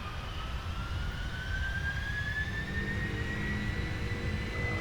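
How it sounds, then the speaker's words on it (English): Airliner jet engines roaring steadily at takeoff thrust on a heavy cargo run, a loud continuous rumble with rising whine tones climbing gradually throughout. "Listen to those beastly engines. Very, very cool."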